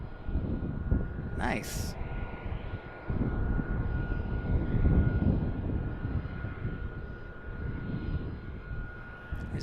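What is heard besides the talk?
Cessna Citation Sovereign jet at Tucson International Airport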